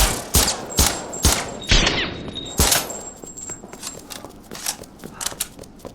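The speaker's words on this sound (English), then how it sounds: "Now this being a sniper rifle, I'm expecting some pretty serious firepower." Sniper rifle firing in Resident Evil Re:Verse, with sharp, loud shots about every half second early on, then quieter scattered pops and gameplay noise.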